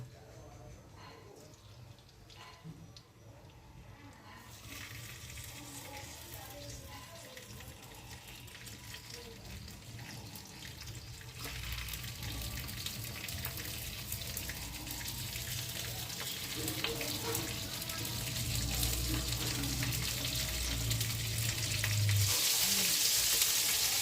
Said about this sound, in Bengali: এবার নুন মাখানো ধুয়ে রাখা চিংড়ি মাছগুলো দিয়ে দিচ্ছি ভেজে নেওয়ার জন্য।